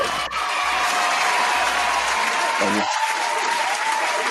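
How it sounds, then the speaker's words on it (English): A steady round of applause with some cheering on a hip-hop mixshow honouring a young guest artist, running continuously with a voice briefly audible over it. "round of applause for Trem Sol, man."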